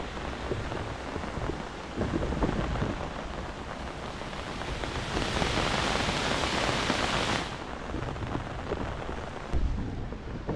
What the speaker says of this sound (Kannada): ಹೆವಿ ಮಳೆ ಗೈಸ್, ಇವಾಗ ಹೆವಿ ಮಳೆ.